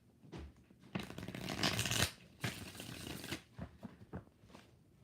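Tarot cards are shuffled in several close, crisp riffling bursts with short pauses between them, loud and dry with no talking.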